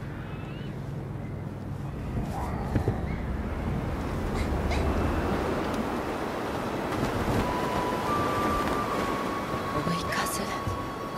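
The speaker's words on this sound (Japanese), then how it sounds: "みんなの背を押す追い風です" Wind blowing in the video game Monster Hunter World: Iceborne, a steady broad rushing whoosh that swells gently and keeps going throughout, with voices speaking over it.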